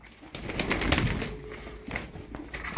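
Çorum naked-neck pigeons coo softly in a coop, a low rolling call that repeats in close, gentle pulses with faint rustling around it.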